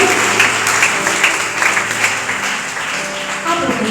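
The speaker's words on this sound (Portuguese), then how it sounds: "Aplaudimos para o Senhor Jesus Cristo." A church congregation applauds during a worship service, steady dense clapping filling the room for several seconds at a fairly loud level with no clear breaks.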